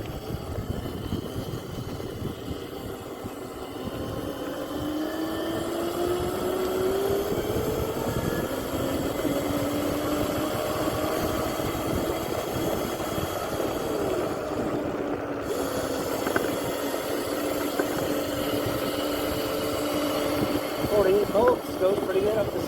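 An electric Razor MX500 dirt bike with upgraded shocks rides uphill outdoors, its motor giving a steady, rising whine that shifts in pitch over about twenty seconds, with wind and rough terrain noise mixed in.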